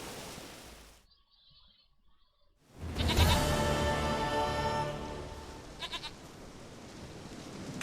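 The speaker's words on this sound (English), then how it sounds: "Where are you going? Stupid goat." A goat in The Witcher 3: Wild Hunt lets out a long, loud, wavering bleat after a brief hush, tailing off into quieter background ambience.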